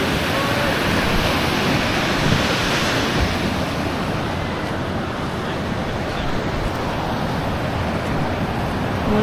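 Surf rolling onto a shore, a loud continuous wash of breaking sea waves with swells and some wind buffeting the microphone, steady throughout with no clear voices.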